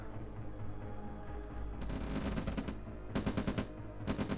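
Bursts of rapid gunfire from a light tank's gun in a war video game, several short rattling volleys separated by brief pauses over a low engine rumble, fairly quiet overall.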